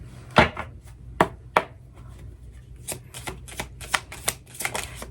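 Tarot cards being shuffled during a psychic reading, a series of crisp, close riffling snaps, sparse at first and then quicker and more frequent, heard alone over a quiet room.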